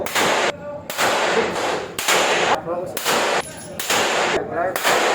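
Rapid gunshots at a shooting range, loud sharp reports fired in quick bursts with brief gaps, echoing over a constant background with no pause in the noise.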